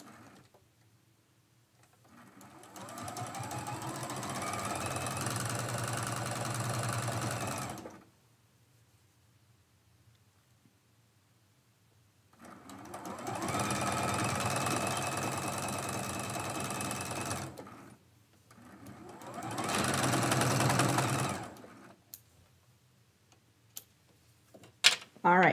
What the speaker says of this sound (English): I'm going to match up that little middle seam again. And sew that seam.